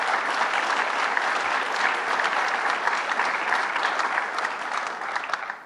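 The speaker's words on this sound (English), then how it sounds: "Let's give him a big round of applause." A large crowd applauds steadily, a dense wash of clapping that holds strong throughout and fades slightly at the end.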